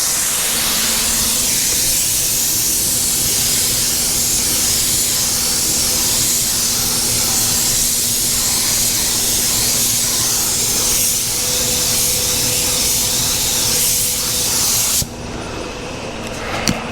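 A spray gun applies car paint at low air pressure of about 10 to 15 pounds in a shop, giving a steady loud hiss that runs unbroken for about fifteen seconds and then cuts off abruptly.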